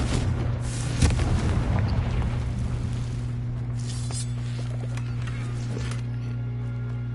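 Bombarda and Confringo spell blasts in the Hogwarts Legacy video game: a heavy boom early on, then lighter impacts and crackles over a steady droning game soundtrack, with no talking.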